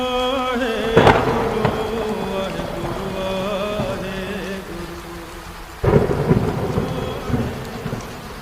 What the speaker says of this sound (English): You shall not be harmed by the power of storm.